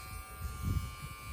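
Electric hair clippers used for a home haircut hum with a steady, close mechanical buzz, with faint low rumbles underneath.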